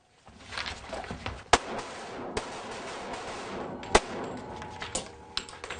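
Pistol shots fired during a close-quarters drill on the draw from the holster, heard as a few sharp, loud cracks spaced about a second apart over steady outdoor range noise.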